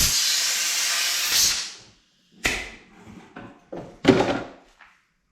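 Compressed air blowing cutting shavings out of freshly cut tubing, a steady loud hiss lasting about two seconds, followed by a few short bursts and thunks.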